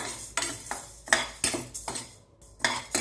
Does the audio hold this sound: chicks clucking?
no